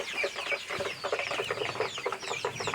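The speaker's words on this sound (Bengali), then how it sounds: "এই মুরগিগুলো দেখতে পাচ্ছেন একদম মাল্টি কালার বলবো না" A small flock of young tiger chickens, about 25 days old, clucking and cheeping continuously and close by, their overlapping calls forming a busy chatter with no talking.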